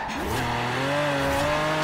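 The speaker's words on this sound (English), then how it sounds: "I'm just gonna do a mad drift here" A car drifting in the racing game Forza Horizon 4, its engine holding a steady rising whine under a sustained tire squeal for the whole stretch, loud and close with no talking.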